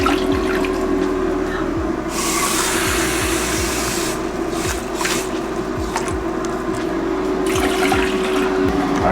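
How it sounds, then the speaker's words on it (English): Water pours from a quick one-cup measuring cup into a pot in a home kitchen, a close, splashy stream with sloshing and clinking that pauses and resumes as two cups are added. "I don't feel like using the other one, so I'm gonna just add 2 cups of water."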